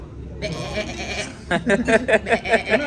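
A person's voice imitates a goat, giving a run of about six or seven short, rhythmic bleats close up, after a brief sustained nasal sound.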